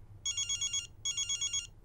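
An indoor telephone rings in two bright, trilling electronic bursts separated by a short pause, clear against a quiet room, with no one speaking.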